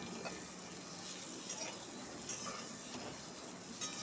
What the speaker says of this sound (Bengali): এবার পটলগুলো ভেজে নিচ্ছি।